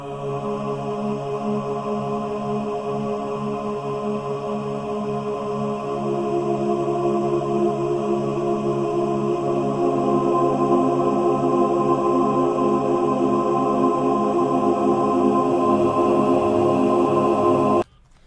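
Infinite hold reverb effect generated in SuperCollider software: a dense, sustained synthetic wash of layered tones that swells slightly in loudness, holds steady for about seventeen seconds, then cuts off abruptly.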